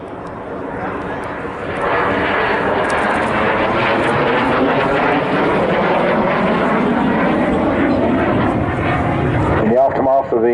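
Saab 37 Viggen jet aircraft flying at the Southport air show, a loud, broad engine roar building after the first couple of seconds and holding steady, with voices talking over it.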